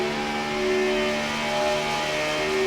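Race car engines in iRacing at the Daytona Road Course, a continuous loud drone with sustained whining tones as cars run past the start-finish line, steady throughout with no talk.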